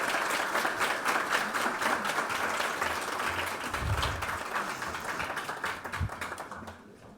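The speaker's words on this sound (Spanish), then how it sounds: "recibimos con un fuerte aplauso, por favor" Sustained applause from the audience at a formal institutional event welcoming a judicial official, many hands clapping in a dense, steady roar that fades away over the final second.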